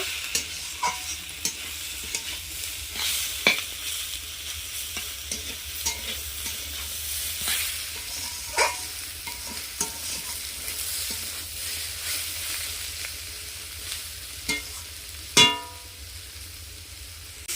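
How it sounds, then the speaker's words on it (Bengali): Onion fried with garlic paste for a village-style thin country chicken curry, sizzling steadily in a pan, with repeated clear scrapes and clinks of a stirring spoon throughout and no talk. "পেঁয়াজ রসুন আমি আর একটু ভালোভাবে ভেজে নেব।"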